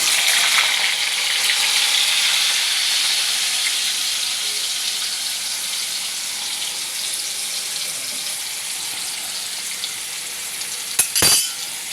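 Cut potatoes fry in hot oil over a cumin-and-spice tempering, making a loud, dense, continuous sizzle that slowly eases over time, broken by a single sharp utensil clank near the end.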